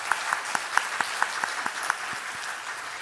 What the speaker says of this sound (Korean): 오늘 말씀 격려의 박수를 한번 쳐줄까요?